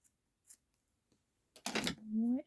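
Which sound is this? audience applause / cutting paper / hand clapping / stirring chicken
cutting paper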